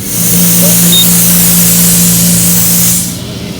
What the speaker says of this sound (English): I'm gonna try to pump this tire up here.